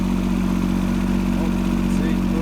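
Tractor engine running steadily while clearing snow with a blade, a constant close mid-pitched drone with a strong low hum and a light clatter.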